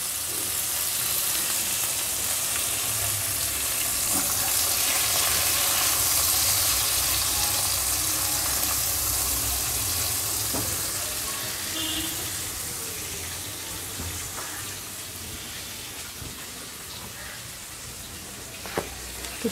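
Black cumin, ginger, onion and tomatoes fry in hot oil with a loud, steady, close sizzle that hisses continuously, easing slightly toward the end, with a few faint clicks from utensils.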